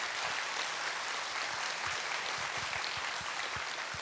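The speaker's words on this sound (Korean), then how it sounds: "우리 홍 목사님과 원기에게 한번 힘찬 감사의 박수 한번 드리겠습니다" A church congregation at a Wednesday worship service applauds the pastor and a young pianist, a soft, distant wash of steady clapping with faint low thumps and no speech.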